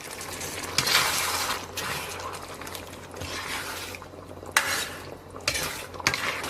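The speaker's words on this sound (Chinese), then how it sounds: "把茄子下到锅中" Eggplant sizzles and hisses in hot oil with minced garlic in a wok, the steady frying broken by bursts of louder sizzling and metal scraping as the pieces are tossed and stirred, close up.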